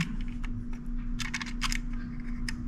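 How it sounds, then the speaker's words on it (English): Movable landing gear on a Monogram Douglas Dauntless plastic model plane is pulled down, giving a quick series of small, close plastic clicks and snaps with no talking. "I can go ahead and pull the landing gear down."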